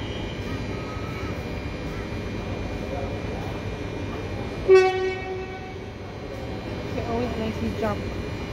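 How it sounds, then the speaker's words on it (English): Train pulling in at platform 9 of a station, a steady low rumble of the approaching train with a brief loud horn-like tonal blast midway, while people talk nearby. "Another train coming on platform 9."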